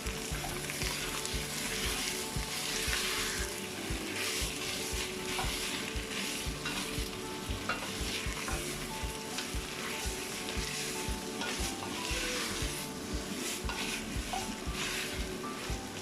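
Red Thai curry paste frying for a courgette and vegetarian chicken curry, a continuous close sizzle with steady stirring scrapes in the pan, even and unbroken, with no talking.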